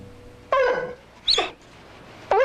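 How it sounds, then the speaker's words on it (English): A dog whimpers and cries in three separate high, wavering whines, with short quiet gaps between them. The sound is close and clear, and no one speaks. "She would whimper and cry any time she came near that room."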